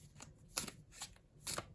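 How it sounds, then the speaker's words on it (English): Vintage first-edition tarot deck being shuffled by hand, quiet and close, with several quick riffling bursts separated by short pauses. "let me just give this a little bit more of a shuffle"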